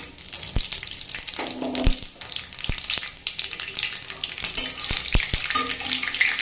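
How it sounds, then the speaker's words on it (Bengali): Whole spices for tempering fry in oil in a wok, a steady crackling sizzle with scattered sharp pops and a few stirring clinks, close and continuous with no talking. "এখন আমি কড়াইয়ে তেল বসিয়ে দিয়েছি, এর ভিতরে আমি এই ফোড়নটা ভেজে নেব।"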